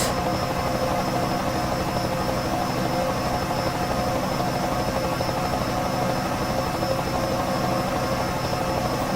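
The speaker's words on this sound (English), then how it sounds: "Helicopter view, why not? At least that adds a bit of sound." Helicopter rotor and engine drone from a NASCAR racing video game, a steady dense whir with broad noise that holds evenly throughout without voices.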